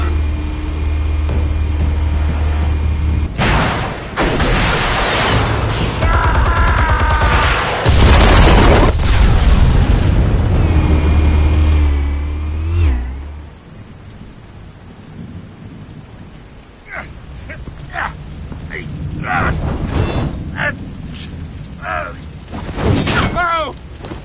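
Explosives detonate in the Batman Episode 1 video game as heavy, rumbling booms with a long low roar that lingers, then fades into quieter clatter and scattered sharp impacts, with voices briefly heard.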